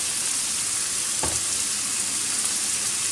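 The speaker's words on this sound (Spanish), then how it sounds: "Y seguimos removiendo." Peppers and chicken for homemade pollo al chilindrón fry in a pan with a dense, even hiss of sizzling and one brief stirring scrape, no speech.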